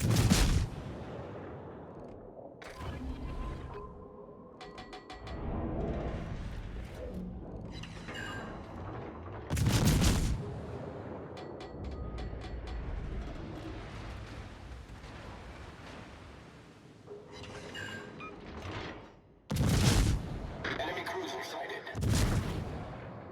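Light cruiser main guns firing in the naval battle game World of Warships, with several loud, deep booming salvos spaced across a continuous rumble of battle noise.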